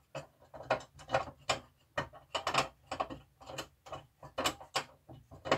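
A screw is turned in by hand during the restoration of a Philips Iridium, giving a close, quiet series of evenly spaced ratcheting clicks and scrapes over several seconds.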